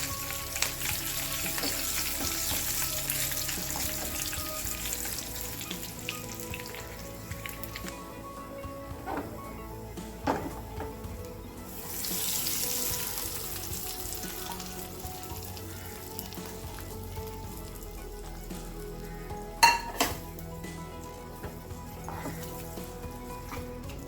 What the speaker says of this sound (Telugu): 2 పచ్చిమిరపకాయలు, 2 మిరపకాయలు వేసి కాస్త ఫ్రై అయిన తర్వాత తాలింపు వేసేద్దాం.